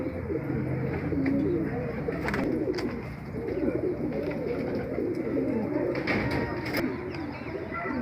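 Pigeons coo in a loft, soft repeated throaty calls layered over each other with a few wing flaps and faint background noise.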